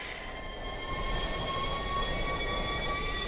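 A Cupra Leon E-Racing electric race car in the RaceRoom sim racing game gives a steady electric whine with layered tonal hums over a constant low rumble, rising slightly in level after the first second.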